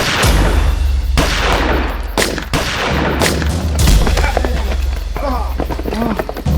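Gunfire in a police shootout scene of a Hindi TV crime drama, a sustained loud volley of repeated shots and bursts with shouted voices breaking through the barrage.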